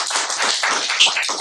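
Dense audience clapping at a hip hop conference and debate, steady and close, brief and without voices.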